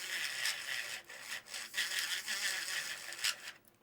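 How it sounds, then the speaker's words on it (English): A tiny cordless rotary tool running on two AA batteries sands a 3D-printed plastic part, giving a close, steady, raspy abrasive hiss that briefly dips a few times as contact shifts and cuts off just before the end, with no talking. "It's basically like a really tiny Dremel tool"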